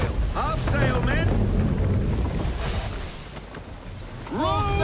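A sailing ship at sea in Assassin's Creed 3, with steady wind rush and water wash carrying through, a few creaking wooden groans rising over it, and the wind briefly easing before swelling again.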